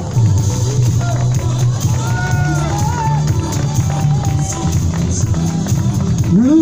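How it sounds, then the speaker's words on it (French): Loud, close crowd applause at the Montpellier urban trail finish, with dense continuous clapping, scattered cheers and shouts, and a busy murmur of voices throughout. "sous un tonnerre d'applaudissements"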